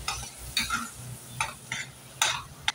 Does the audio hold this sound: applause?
no